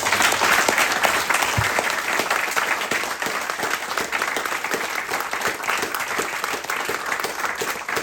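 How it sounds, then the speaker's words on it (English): A room full of people applauding at Thornbury RFC's under-15s rugby club award evening: steady, dense clapping that stays loud and even for the whole eight seconds with no speech over it. "So let's give him a big round of applause."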